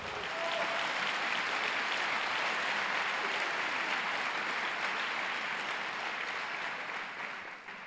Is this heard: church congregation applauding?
yes